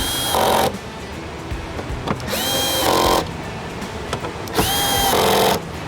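A power gun tightens the mirror housing on a Freightliner Cascadia truck in three loud, close bursts, each a rising motor whine that lasts about a second, separated by short pauses with low background noise and no talking.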